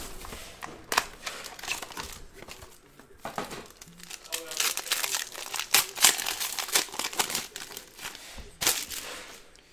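A knife slices open the plastic wrap on a box of 2019 Bowman Draft baseball cards, producing a run of crinkling, tearing and crackling bursts, close and uneven.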